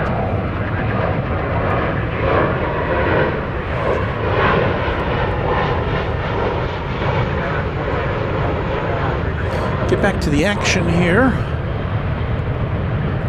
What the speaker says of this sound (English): You heard a plane taking off.